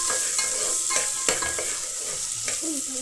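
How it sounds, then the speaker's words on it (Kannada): Half an onion and a dried red chilli frying in oil for lentil sambar, a steady bright sizzle punctuated by several sharp stirring knocks and scrapes against the pan, close-up and without talk. "ಸೊ ನೀಟಾಗಿ ಸ್ವಲ್ಪ ಫ್ರೈ ಆಗಿರ್ತದೆ."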